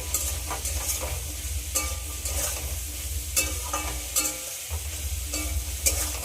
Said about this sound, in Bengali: সব কিছু খুব ভালো করে কিন্তু ভেজে নিতে হবে